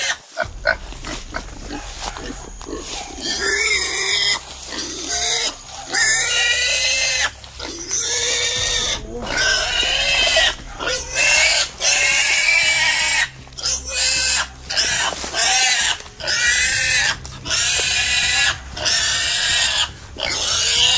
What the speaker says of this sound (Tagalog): Ang ingay-ingay ng baboy mo.